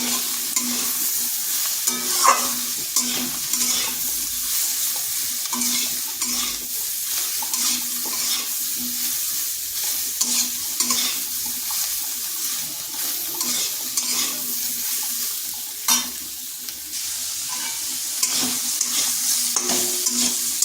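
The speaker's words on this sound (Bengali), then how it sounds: "একটু ভেজে নেব এক চিমটে হলুদ গুঁড়োও দিয়ে দিচ্ছি" Soybean chunks and ivy gourd fry in oil with a pinch of turmeric, giving a steady close sizzle broken by repeated stirring scrapes and the odd clink of a utensil against the pan.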